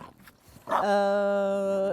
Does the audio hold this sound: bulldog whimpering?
yes